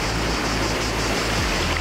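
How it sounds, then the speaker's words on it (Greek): River water rushes steadily around someone wading across a cold river near a Roman aqueduct at Agios Georgios, Preveza, a continuous close broadband wash with no talk. "Όπως καταλάβατε, έχω μπει μέσα στο ποτάμι."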